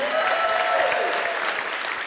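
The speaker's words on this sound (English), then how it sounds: "Give him a round of applause." Audience applause at a standup comedy tournament, a dense steady wash of clapping from a crowd that holds for about two seconds.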